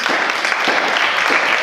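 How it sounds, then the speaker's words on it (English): A crowd at an LGBTQ storytelling event applauds in a dense, steady wash of clapping, moderately loud and close. "give yourselves a round of applause"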